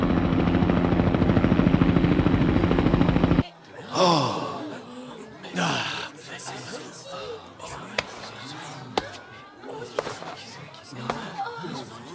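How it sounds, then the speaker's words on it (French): Helicopter rotors drone loud and steady for about three seconds in an anime scene with an attempted rooftop landing, then cut off into tense gasps, thuds and dramatic effects as voices speak. "Atterrissez sur le toit du bâtiment, Fukuro."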